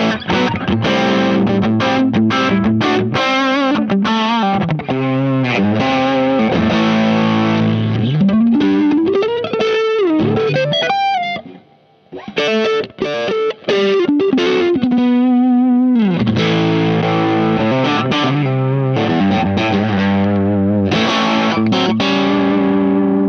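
Electric guitar played through a Creation Audio Labs Holy Fire pedal turned up high, giving loud, saturated distorted chords and riffs that ring continuously, with a brief near-silent break midway, then heavy playing resumes.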